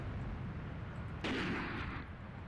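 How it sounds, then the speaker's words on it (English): A single heavy boom of a mortar or rocket impact in the Graviteam Tactics war game, a sudden loud blast that rumbles and fades over about a second against steady battlefield background noise. "We also have mortars or rockets falling on our position over here on the left-hand side, getting completely destroyed"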